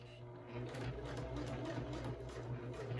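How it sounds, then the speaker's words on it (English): Sewing machine running slowly and steadily while topstitching a wristlet bag, a continuous low motor hum with a soft mechanical needle rhythm throughout. "Try and take it so slow so my machine will have pretty top stitching"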